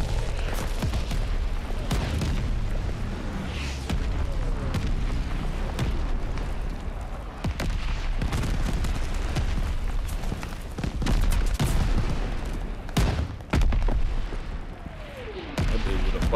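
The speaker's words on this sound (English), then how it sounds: "This one got explosive rounds on it" Explosive sniper rounds in Call of Duty Vanguard on the Paradise map, booming impacts and blasts under a constant dense battle din, with a few sharper cracks standing out.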